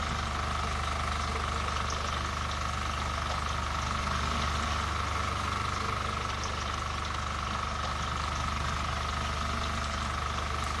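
Loud embalming pump draining a body in The Mortuary Assistant, a steady mechanical drone with a low hum and a constant whine, running unbroken and close throughout with no talk.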